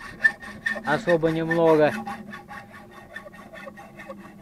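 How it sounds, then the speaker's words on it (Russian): Quick rhythmic rasping strokes of a saw cutting a metal pipe on an old farm, close and fairly loud, with a brief spoken remark and a squeaky tonal scrape in the middle. "Вон брат трубу пилит."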